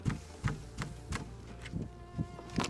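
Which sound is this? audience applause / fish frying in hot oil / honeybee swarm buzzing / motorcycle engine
honeybee swarm buzzing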